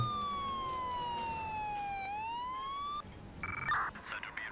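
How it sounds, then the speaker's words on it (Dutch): An emergency vehicle siren from the video game Emergency 4 wails in a smooth, slowly falling then rising sweep, loud and alone, followed by brief electronic beeps and game noise. "Dat is een irritante sirene hebben ze in het buitenland"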